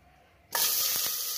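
Amul butter hits hot oil in a pan with a sudden sharp sizzle that continues steadily, close and loud, with a faint crackle.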